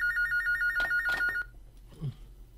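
A telephone rings in an office setting with a short, repeated electronic ring pattern, then stops. A faint voice-like sound is heard near the end.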